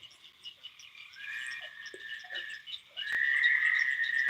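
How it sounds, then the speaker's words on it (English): Frogs croak and trill in rapid, overlapping calls at night near a catfishing spot, a dense chorus that swells louder toward the end, with no one speaking. "Tell the frogs to shut up"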